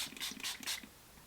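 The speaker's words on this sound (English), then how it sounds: "That was like a really big spray right directly to the center of my face" E.L.F. makeup setting spray fires in three or four quick hissing bursts, close and fairly faint, with short gaps between pumps and no talking.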